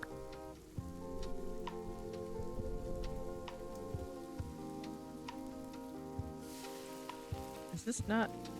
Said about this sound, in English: Cook quickly in a pan, then you hear it sizzling.